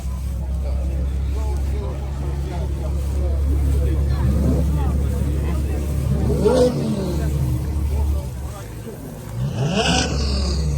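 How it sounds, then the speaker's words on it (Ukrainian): Engines idle and rev among cars and machinery at the Agro Poltava 2025 agricultural exhibition, a steady low rumble with several rising throttle blips close by, while a crowd murmurs in the background. "Бензин палять, газують."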